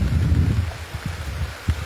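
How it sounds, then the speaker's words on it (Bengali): Heavy rain falls outside in a steady, dense wash during a storm, with a few low thumps and gusts rising through it and one sharper burst near the end. "বাহিরে অনেক বৃষ্টি, এখন আমার ঘরের ভিতরে যেতে হবে।"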